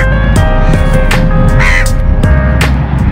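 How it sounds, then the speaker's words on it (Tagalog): A flock of crows caws loudly among date palms, harsh repeated calls overlapping in quick bursts over a steady background hum, close and dense, with no voices. "so ang daming mga uwak"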